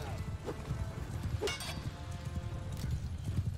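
Horse hooves pound in a medieval battle during a castle defense in the video game Mount & Blade II: Bannerlord, a rapid clip-clop over rumbling combat noise with a short neigh and clashing in the mix.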